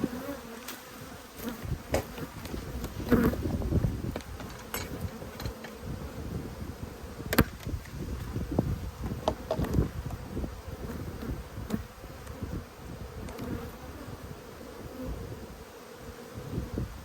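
Many honey bees buzz continuously around an Australian hive during an inspection, a dense droning hum with individual insects swelling louder as they pass close by.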